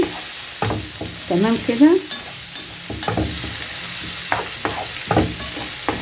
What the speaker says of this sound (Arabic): هندي بقى للبصل تشويحه كده تاخد من ريحه الفراخ وريحه التوابل.